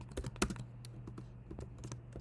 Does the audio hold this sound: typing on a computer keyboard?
yes